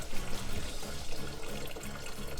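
Water pouring steadily into a container of Kool-Aid lake day punch, a continuous splashing, gurgling stream heard up close and alone.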